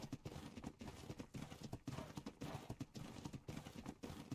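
Horse hooves clip-clop steadily in a video game map, a continuous rapid rhythm of quiet hoof strikes at close range, faint overall and with no talking over it.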